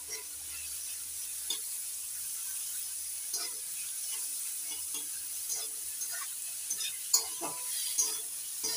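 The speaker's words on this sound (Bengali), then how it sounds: "পেঁয়াজ রসুন লঙ্কা চিংড়ি মাছ একসঙ্গে লাল লাল করে ভালো করে ভেজে নিয়েছি" Turmeric-coated prawns frying with onion, garlic and chili over medium heat, giving a soft, even sizzle and hiss with occasional light stirring clicks, close but quiet.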